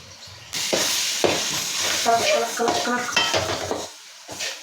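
A spoon stirs chili powder into a fish curry in a pot, giving scraping and clinking metal strokes over a soft sizzle, several close stirs in uneven rhythm before it quiets.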